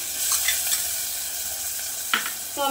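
Onion, curry leaves and tomato sautéing in a pan for a lentil amti: a steady close sizzle with a few soft stirring scrapes and a sharper clatter near the end, no talking.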